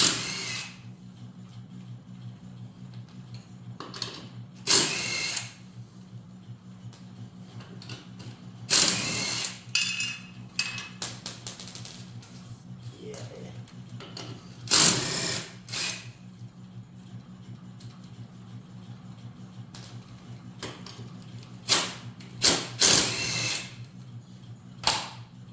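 Power tool work removing the front wheel and hub from a John Deere 318 lawn tractor, with short loud bursts of drilling and ratcheting spaced through the clip over a steady low mechanical hum; no talking.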